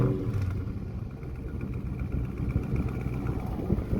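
A 2022 Dodge Charger Scat Pack Widebody idles with a steady, deep, loud engine and exhaust rumble, close by and continuous, with no one talking.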